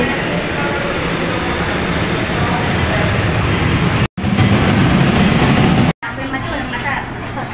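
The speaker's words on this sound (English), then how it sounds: "Another train." A passenger train on the line to Antipolo, Rizal rumbles past close by in a loud, steady roar with rattling wheels, broken by two brief silent cuts.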